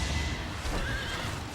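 A horse in the video game Fire Emblem: Three Houses gives a loud neigh that rises and quavers over a dense, noisy game soundtrack, heard up close.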